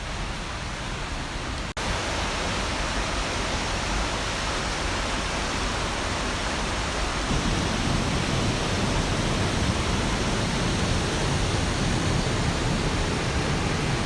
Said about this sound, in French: J'entends le bruit de la cascade.